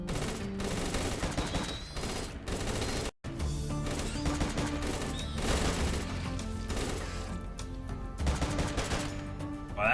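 Rapid bursts of video-game gunfire from RimWorld, dense fusillades and machine-gun-like rattles filling the stretch with a brief dropout near the third second, no talking.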